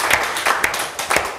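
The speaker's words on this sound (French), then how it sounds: "Applaudissons pour le Seigneur." Congregation clapping during a church worship service, a short burst of rhythmic claps heard close and moderately loud.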